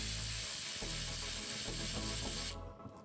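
A ratchet with a 17mm socket loosening the oil drain plug on a BMW X1, rapid close clicking in quick pulled strokes, loud and alone, stopping abruptly near the end.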